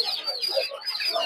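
Small chickens at a rural market in Narsingdi clucking and chirping continuously, a dense overlapping chorus of high bird calls at moderate distance, with faint background chatter.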